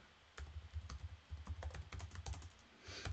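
Keystrokes tapped on a computer keyboard come in quick, uneven bursts over a faint low hum, fairly close and quiet, with no voices.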